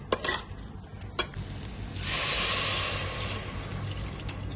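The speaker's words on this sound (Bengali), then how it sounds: "এবার একটু নাড়িয়ে চাড়িয়ে আমি জল দিয়ে দিচ্ছি।" Onions and rice frying in a pan are stirred with a few scraping clacks, then water is poured in, setting off a loud, steady hiss and sizzle close by.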